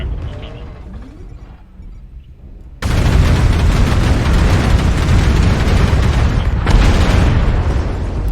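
Missile explosions in MechWarrior Online, a mech combat game, burst in as a sudden loud roar after a quieter lead-in, with a continuous rumbling barrage of booms and a fresh blast near the end.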